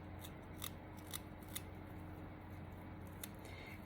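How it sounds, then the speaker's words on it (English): Garlic being chopped into tiny pieces for ricotta balls, heard as a string of light, crisp cuts close by: quick clusters of snips spaced irregularly over a soft steady background hum, with no talking. "here we're gonna cut up the garlic, little tiny pieces"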